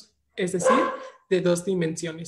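A pet dog barks indoors in short, loud bursts, mixed in with a man's ongoing Spanish speech during a lesson.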